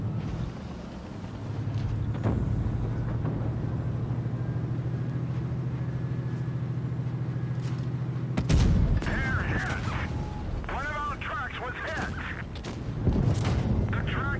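Tank cannon fire in the mobile game World of Tanks Blitz, a single heavy boom cutting through a steady engine drone, followed by more clanking impacts, with a commentator speaking over it.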